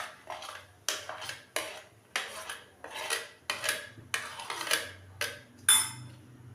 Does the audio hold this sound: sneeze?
no